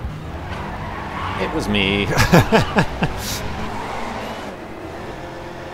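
A race car sliding sideways through a turn in the GRID video game, engine straining as the tires squeal in a few loud wavering bursts, with someone speaking briefly over it.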